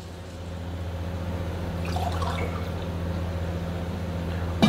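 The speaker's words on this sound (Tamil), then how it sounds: "ரவை வதங்கி வந்துட்டு இப்போ தண்ணி ஊற்ற" Water poured into a pan of roasted semolina for rava kichadi, a soft, steady liquid pour over a constant low kitchen hum, with a brief splashy burst partway through.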